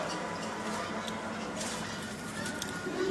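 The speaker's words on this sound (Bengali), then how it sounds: "এটি তো দেশি কবুতর না?" Domestic pigeons cooing at a market stall, soft low coos repeating under a steady background hum, fairly close and faint.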